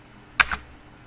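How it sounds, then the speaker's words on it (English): The Enter key is pressed on a computer keyboard, giving two quick, close clicks in a quiet room. "simply hit the Enter key, located towards the middle of the keyboard."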